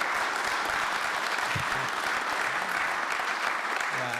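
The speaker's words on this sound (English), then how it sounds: "Round of applause for them." Sustained applause from a workshop audience thanking a panel of speakers at a trade agreement session, steady and dense throughout with no talk over it.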